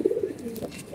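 A moulting pigeon gives a soft, close, low cooing call lasting about a second, with light background noise and no speech.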